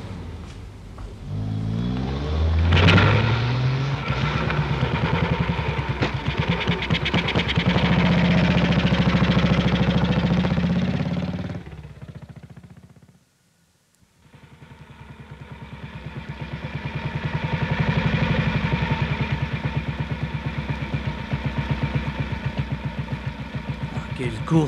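A motorcycle engine runs steadily in a French radio crime drama set at night in Paris, a loud mid-pitched motor drone that cuts out briefly, then resumes and carries on to the end.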